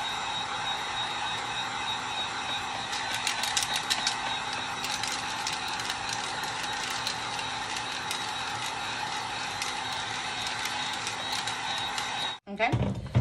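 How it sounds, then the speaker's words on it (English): Heat gun blowing on a glitter tumbler, a steady loud whirring hiss with a faint mechanical rattle, running continuously until it cuts off near the end. "I'm gonna go ahead and grab my heating gun"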